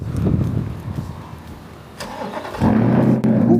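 A Chevrolet Corvette E-Ray starts up nearby, moving from quiet mechanical rustling to a sudden engine catch that settles into a steady low idle.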